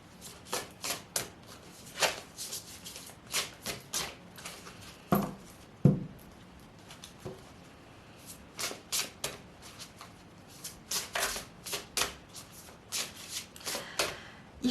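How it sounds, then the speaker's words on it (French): Oracle cards are shuffled and riffled by hand in repeated quick bursts of crisp, close flapping and snapping, separated by short pauses with soft handling between. "Alors on va piger une carte pour les personnes qui choisiront l'oracle des fées."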